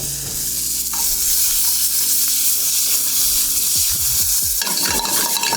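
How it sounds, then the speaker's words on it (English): Mushrooms and tomato fry in butter in a pan with a loud, close, continuous sizzle, and a spoon scrapes and stirs repeatedly toward the end. "Let that butter cook for a minute or 30 seconds with the mushrooms."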